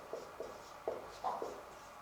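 Marker or chalk taps and strokes on a board, a handful of short scratchy marks in quick succession, close and fairly quiet over a steady room hum.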